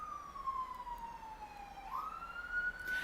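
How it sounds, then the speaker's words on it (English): An emergency vehicle siren wails in the distance, a single tone sliding slowly downward and then rising again, heard over faint low road noise. "Sirens."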